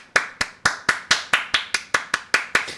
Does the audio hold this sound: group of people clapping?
yes